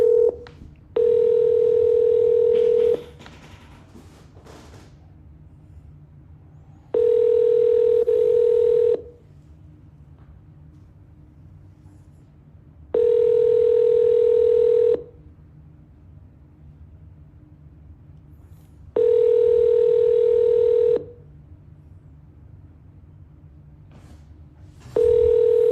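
Telephone ringback tone during a call to a seller: five evenly spaced two-second tone bursts, each followed by several seconds of near silence, steady, clear and close with no talking over them.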